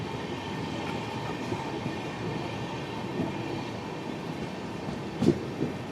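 Okha–Ernakulam Express rolling slowly past a work zone in Gujarat, a steady low rumble of rail cars with faint clatter and one brief knock near the end, no voices.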